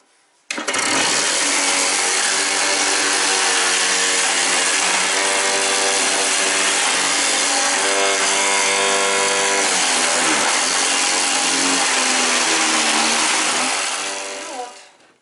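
Fresh zucchini rubbed against a fine metal grater: a loud, steady, continuous rasping with a harmonic whine, running unbroken for about fourteen seconds before stopping.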